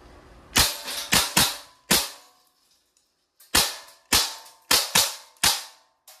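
A Crosman AK1 blowback airgun fired semi-automatic, eight sharp, loud, close shots in two uneven groups of four, each crack ringing briefly before the next, with no talk.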